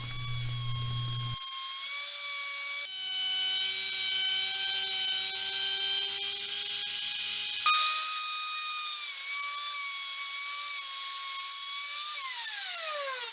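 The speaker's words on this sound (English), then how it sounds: "To tidy the front edge up, I went round it with a cove bit in the router." A router fitted with a cove bit shapes the front edge of a scrap-wood coat rack, a steady high-pitched whine that holds unbroken for several seconds, shifts pitch as the cut changes, then winds down at the end.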